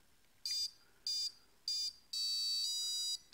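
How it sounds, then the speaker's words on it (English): RC electronic speed controller beeping during a test on a ToolkitRC M7 charger, three short high beeps followed by a longer tone, clear and close with no talking. "I'm going to increase that and you'll hear the ESC beep."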